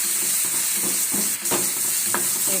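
Tomato masala with onion and garlic frying in a pan for ridge gourd curry, a steady sizzle broken by repeated scrapes and clinks of a spoon stirring, close and fairly loud with no talking.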